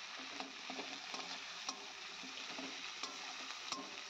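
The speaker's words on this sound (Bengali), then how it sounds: "আর দেখো মাছের মশলাটা ভালোভাবে কষিয়ে নিচ্ছি।" Fish masala with ginger and garlic sizzling in a pan as it is stirred and fried down, a steady soft hiss with light scraping ticks at an even pace, fairly quiet and close.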